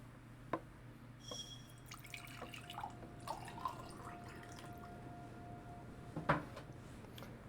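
Faint water drips and trickles in Tears of the Kingdom, scattered soft drops over a low steady hum with a brighter splash near the end.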